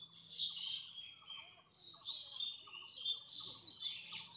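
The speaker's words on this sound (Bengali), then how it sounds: "একটু চুপ করে থাকি, আপনারা পশু পাখির আওয়াজ শুনতে পারবেন" Birds chirp and tweet in a quiet natural spot beside a pond in Jessore, with bursts of bright, repeated calls coming in several short phrases over a faint, still background.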